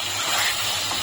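Yogurt marinade gravy hits frying chicken in a pan, a loud broad steam hiss that holds steady for about a second.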